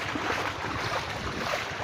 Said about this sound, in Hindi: मुझे लगता है मुझसे ज़्यादा आपको पानी की छप छप की आवाज़ आ रही होगी।